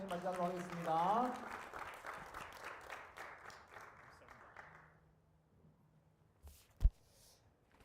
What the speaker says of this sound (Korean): 우리 나오실 때 사랑과 축복의 박수로 목사님 맞이하도록 하겠습니다